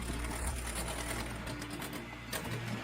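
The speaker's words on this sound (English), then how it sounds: "Now we start adding a few spoons of custard base and mix briefly with a mixer" An electric hand mixer whirs steadily and close as it briefly blends custard base into gluten-free cake batter, a continuous even motor hum with slight rattling.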